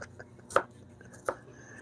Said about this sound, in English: Now I'm chopping the garlic.